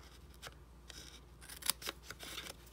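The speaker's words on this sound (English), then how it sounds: "And the next one, we're going to cut that little tab off" Scissors snip a small paper tab off a papercraft mint box, a series of quiet, crisp cuts with a sharper snap near the middle, heard close and alone.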